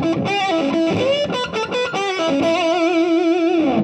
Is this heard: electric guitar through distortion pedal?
yes